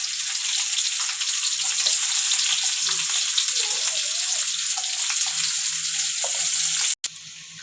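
Onions sautéing in hot oil for prawn masala give a steady, fairly loud sizzle with a few soft stirring clicks, continuous for several seconds with a brief dropout near the end.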